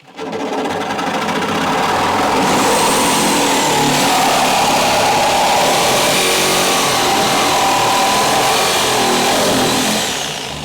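A reciprocating saw chatters steadily through car body sheet metal of a crew cab Charger's trunk floor, a loud, close, unbroken buzzing cut lasting about ten seconds with a faint whine riding over it.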